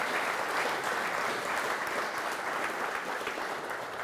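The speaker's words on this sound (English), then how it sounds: "Round of applause for our speakers" Sustained applause from an audience at a Startup Grind Limerick future-mobility event, a dense, steady wash of many hands clapping throughout with no gaps.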